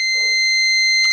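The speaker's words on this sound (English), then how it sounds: "you get a beep, means there is direct connection" Multimeter continuity test on a laptop motherboard, a steady loud electronic beep holding for the whole moment, with faint brief clicks of probe contact.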